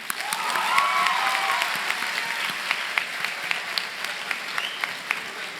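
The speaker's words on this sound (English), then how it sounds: "One more big round of applause for our man." A high school commencement crowd breaks into sustained applause with a few whistles and cheers early on, the clapping holding steady for several seconds as individual claps stand out.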